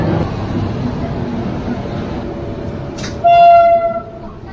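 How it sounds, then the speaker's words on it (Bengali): The Darjeeling Mail pulls out of Sealdah station in Kolkata with a steady close rumble of rolling coaches. Partway through, a loud sustained horn blast sounds, then fades. "দার্জিলিং মেলের টাইম মানে একবারে কারেক্ট টাইমে ছেড়ে দিচ্ছি শিয়ালদা স্টেশন থেকে।"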